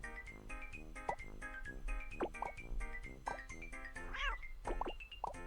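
Cartoonish cat meows from the puzzle game Block Cat Jam, several short rising mews scattered over a bouncy, repetitive plinking game tune, fairly quiet.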